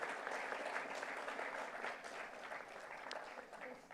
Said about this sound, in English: can we have a round of applause for sir?